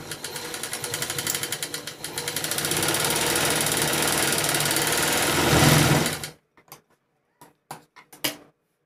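Up close, a sewing machine stitches a straight seam on fabric for a 40-size garment in a fast, continuous mechanical whir for about six seconds, then stops, followed by a few scattered clicks and knocks.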